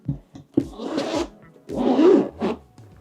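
A zipper is dragged along an Apple Vision Pro carrying case in a few short, close, scratchy pulls, each rasping run separated by brief pauses.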